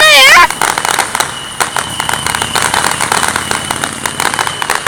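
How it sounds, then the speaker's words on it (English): Small Fourth of July firecrackers crackle and pop in rapid bursts across the sky after a loud whistling launch, with people exclaiming nearby. "there's little firecrackers in the air! Little firecrackers in the air!"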